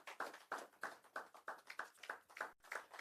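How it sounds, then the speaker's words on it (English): Audience at a community sharing-experience event clapping in a regular, fairly quick rhythm, a few sharp claps per second, faint and close with only a small group of hands. "May we give a resounding round of applause to this special Nigerian as he takes his seat."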